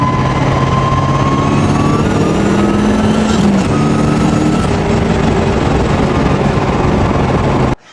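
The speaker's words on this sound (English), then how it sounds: "You just have an ignition cut or a fuel cut for a flat shift, so it unloads the transmission and allows you to make that shift." Turbocharged car with a dogbox transmission accelerating hard, a loud, close engine roar rising in pitch, briefly cut as the gear is flat-shifted with ignition cut, then climbing again before stopping abruptly.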